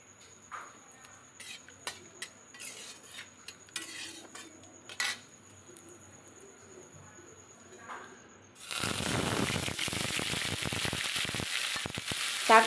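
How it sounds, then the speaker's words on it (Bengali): Cumin, bay leaf and whole garam masala hitting hot mustard oil, bursting into a loud, steady sizzle after several quiet clinks of utensils, the frying hiss continuing close and dense to the end. "তারপরে এখানে জিরে, তেজপাতা আর গোটা গরম মশলা ফোড়ন দেব।"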